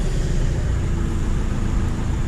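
A Nissan Navara engine, just fitted with a repaired crankshaft sensor, runs at a steady loud idle, a dense low rumble throughout with no talking.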